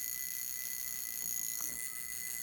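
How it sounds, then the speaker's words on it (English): A Seiko 4006-6027 wristwatch alarm rings continuously as a steady, thin, high-pitched electronic buzz, faint but unbroken throughout, with no voices. "Let's go to 9 o'clock and listen for your alarm."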